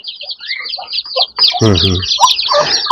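Peruvidai country chicken chicks peep and cheep in a steady chorus of high, rapid calls, with an adult hen's low clucking joining partway through, all close by.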